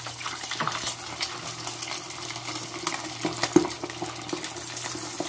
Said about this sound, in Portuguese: Agora vamos passar no, na gordura aqui, ó. Pra dar uma secada nele.